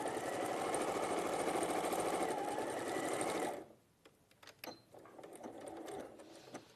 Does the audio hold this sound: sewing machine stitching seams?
yes